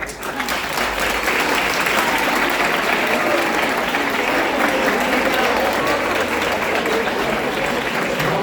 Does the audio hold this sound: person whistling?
no